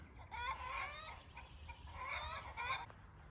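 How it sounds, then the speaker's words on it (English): Chickens cluck and squawk in an excited, overlapping chorus in a garden, loud and close in two busy bursts with a brief lull between. "Chickens are going nuts this morning."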